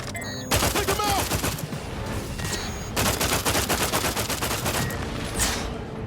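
Rapid automatic gunfire in the video game Outer Worlds 2, loud dense bursts firing almost without pause, with a voice briefly heard beneath the shots.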